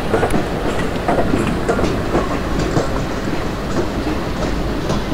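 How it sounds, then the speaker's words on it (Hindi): An Indian Railways locomotive on a Bhusaval–Katni passenger run in the Open Rails simulator rumbles loudly and continuously, with rolling wheel noise and faint clatter as it brakes. "चलिए ब्रेक्स लगाते हैं हम।"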